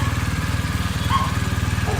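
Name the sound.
Kawasaki H2R superbike engine cold start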